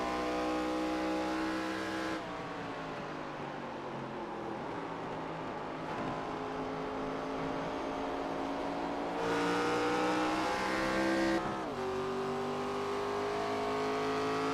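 Race car engine at World Wide Technology Raceway during a racing round, a loud, continuous high-pitched whine that climbs through the revs, drops sharply at each gear shift, and climbs again.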